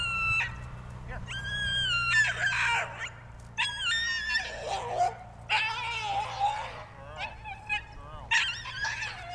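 A young Brittany puppy at a hunting bird-dog training session lets out repeated high-pitched yips and whiny barks in uneven bursts, close by, over a low background hum.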